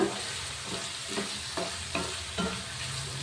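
Onions fry in a pan for a simple okra palya, giving a steady close sizzle broken by a few regular spatula strokes stirring them around.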